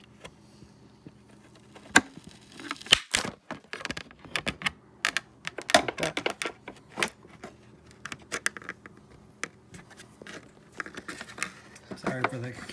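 Adhesive tape tears as a screwdriver pries the side mirror glass off a GMC, producing irregular crackling snaps and sharp clicks in short bursts, close and fairly loud, with a voice talking at times.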